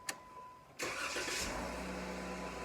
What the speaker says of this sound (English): Now that we've got the car started, we need to unhook the battery cables.